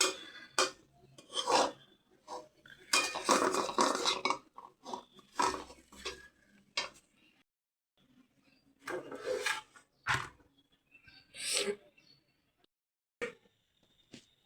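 Washed red amaranth greens are cut by hand in a quiet room, with intermittent rasping scrapes and chops in short irregular bursts separated by silences.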